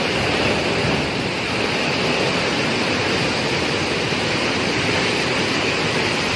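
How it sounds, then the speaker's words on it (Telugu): Water pours through an open spillway gate at Jurala Dam, the Priyadarshini Jurala Project in Telangana, in a loud, steady, unbroken roar that fills everything with no talk on top. "ఇక్కడ పక్కల గేట్ తెరిచిండ్రు, అది చూసి వద్దాం పదండి."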